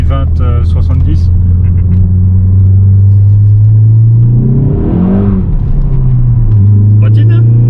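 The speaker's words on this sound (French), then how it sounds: "une voiture de sport, c'est fait pour faire du bruit" A sports car engine rumbles loud and close from inside the cabin, a deep steady drone that swells with a brief rev midway, while occupants talk over it.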